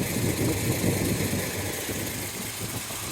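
Lumpy, loping idle of a 1970 Chevelle SS with an LS5 454 big-block V8, headers and Flowmaster exhaust, a steady close rumble with no talk over it.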